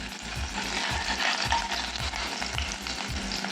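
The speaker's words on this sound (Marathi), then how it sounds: "आता इथे तूप गरम झाले, आता आपण जिरे टाकून घेऊ याच्यात" Cumin seeds sizzle in hot ghee, a dense, steady crackling fry close up, with a faint rhythmic scraping or stirring thump repeating underneath.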